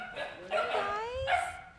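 Rescue puppies give high, whining yips with rising and falling pitch, several short cries in a row, close by and fairly loud, with no talking over them.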